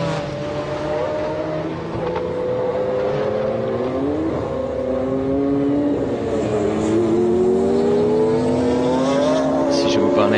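Race cars at the 1995 24 Hours of Le Mans, including a Lister, roar past with loud sustained engine notes rising and falling in pitch as they accelerate, a commentator talking over the racing.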